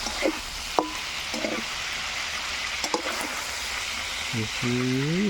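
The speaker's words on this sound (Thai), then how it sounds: "เรามาต่อกันที่ ทอด ของเรานะครับ" Food frying in oil, outdoors in the evening, gives a steady close crackling sizzle with a few clinks of utensils, and a voice briefly talks over it near the end.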